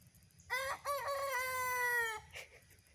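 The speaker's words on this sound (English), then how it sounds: "I got two of them crowing now" A rooster crows once, loud and close, in a long drawn-out cock-a-doodle-doo on a small off-grid homestead, with a faint trailing note afterward.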